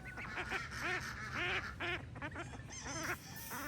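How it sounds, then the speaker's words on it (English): Several ducks on a farm pond quack and honk in rapid, overlapping bursts, fairly close and continuous for a few seconds. "Look, there's other ducks."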